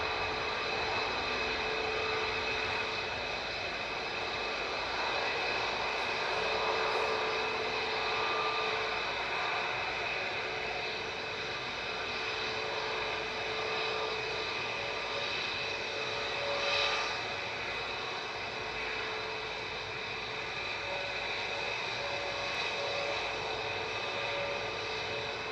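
A Lufthansa City airliner bound for Munich lines up on the runway at Manchester Airport, its jet engines producing a steady, distant idling hum and whine with slight swells, continuous throughout.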